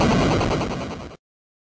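Gunfire in an animated video rattles as a quick rapid burst of repeated shots, loud and close, lasting about a second before stopping dead into silence.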